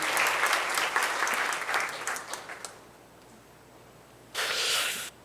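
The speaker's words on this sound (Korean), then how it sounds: "격려 박수하겠습니다" Congregation applause of encouragement in a church service: a dense burst of many hands clapping for about three seconds, fading out, then a short second burst of clapping near the end.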